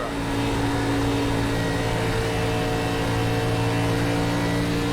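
A race car engine in the iRacing sim drones continuously at high revs during an ARCA Menards Series race at Texas Motor Speedway, a loud, sustained, even roar with no voices.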